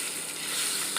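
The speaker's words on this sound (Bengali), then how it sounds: "ভালো করে নেড়ে চেড়ে মাথাটাকে ভেজে নেব" A fish head seasoned with salt and turmeric fries in a pan, making a brief, steady close sizzle with no talk over it.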